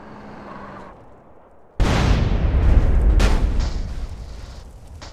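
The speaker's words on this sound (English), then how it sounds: "the men's car will hit a nearby gas station with great force, which will cause a big explosion" In the GTA video game, a car smashes into a gas station and sets off a big explosion: a sudden loud boom after a quieter lead-in, then a rumbling roar with secondary blasts that slowly fades.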